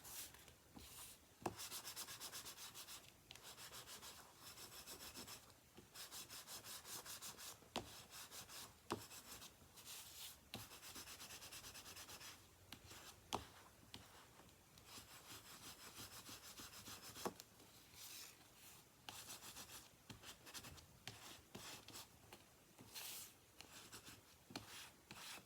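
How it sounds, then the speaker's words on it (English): Paper gift box folds being burnished, a faint close rubbing and scraping repeated in short strokes with small taps between them. "All right, now I'll give these a good burnishing."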